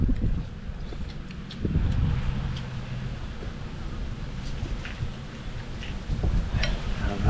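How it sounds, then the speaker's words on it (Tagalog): Strong wind buffeting the microphone on a boat, with continuous rumbling low gusts that swell and ease, plus scattered light knocks and water noise and no clear talk. "grabe hangin mga idol. Sarap ng hangin."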